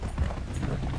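Rapid hoofbeats of a horse galloping in a video game, a steady low drumming rhythm running throughout at moderate loudness.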